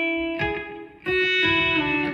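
An electric guitar with a B-bender plays a short lick with the bender raised. The twangy plucked notes are distinctly articulated, and one note rises in pitch partway through.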